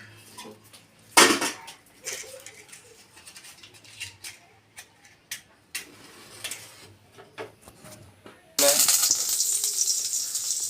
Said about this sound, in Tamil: கடுகு போட்டாச்சு கருவேப்பிலை போட்டாச்சு வத்தல்